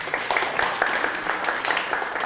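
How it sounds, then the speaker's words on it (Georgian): Studio audience applauding a quiz contestant on a Georgian student book-quiz show, a short burst of steady, lively clapping with a voice faintly underneath. "აპლოდისმენტები ლანას"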